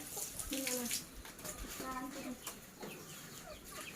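A chicken clucks at a rural home in Non Sung with a couple of short clucking bursts, close by, mixed with background voices and splashing water.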